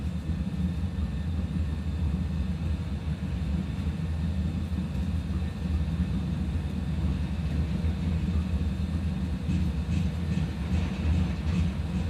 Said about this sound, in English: It is a takeoff